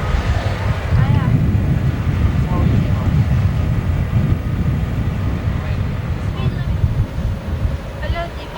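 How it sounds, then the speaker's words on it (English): Helicopter on a visit to Catalina in 1991, a continuous loud low engine and rotor drone with wind buffeting the microphone, and people talking over it. "That's the helicopter, Laura."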